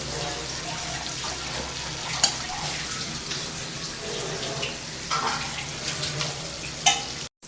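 Ghee melting into payasam in a pan, a steady close sizzle and bubbling hiss with a few brief clinks of a utensil, no talking.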